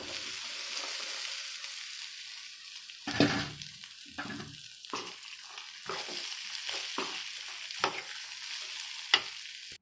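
Food frying in a pan on a gas stove: a faint, quiet sizzle broken by several louder stirring scrapes and clinks in the second half.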